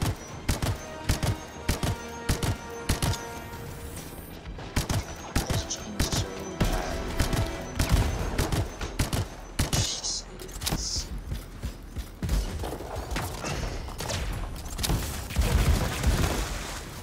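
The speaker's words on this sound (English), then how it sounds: "Kill this machine gun turret that is locking me down. Who's shooting me?" Repeated gunfire in the video game Anthem, sharp bursts scattered through a dense, busy battle mix, with the sustained machine-gun turret fire not clearly separable from the other weapons and effects.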